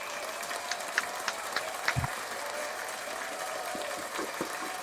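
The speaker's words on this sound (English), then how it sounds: "Let's give him the clap" Applause from a studio audience, a continuous hiss of clapping at moderate level with a few sharper individual claps and thumps standing out near the front.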